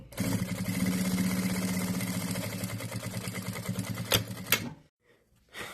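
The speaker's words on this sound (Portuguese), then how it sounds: "vou costurar aqui, vou começar, e vou costurar bem em cima da costura" A sewing machine stitching along an existing seam, running in a steady rapid mechanical whir for about four seconds, then a few clunks before it stops to near silence.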